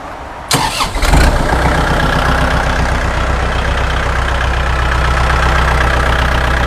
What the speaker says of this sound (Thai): เดี๋ยวดูเราตอนติดเครื่องนะครับ